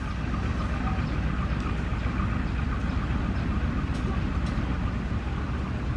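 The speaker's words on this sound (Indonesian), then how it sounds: "ini lokal Cibatuan sudah sampai di stasiun Karangsari." A Cibatuan local train arriving at Karangsari station in Indonesia, a steady loud rumble of wheels and engine with broadband rail noise that holds throughout, with no clear voices.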